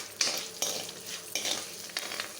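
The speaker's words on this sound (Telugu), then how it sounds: "ఇలా ఈ పప్పులన్నీ సగం వేగిన తర్వాత మాత్రమే ధనియాలు, జీలకర్ర వేసి చివరిలో వేయించుకోవాలి" Coriander seeds and cumin are added to half-fried lentils and tossed in a hot pan for gongura chutney, giving a steady close sizzle with a few sharp scraping strokes at intervals.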